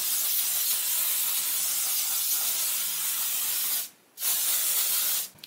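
An aerosol can of hairspray lets out a long, steady spray hiss close by, breaks off briefly, then resumes for a moment before cutting out.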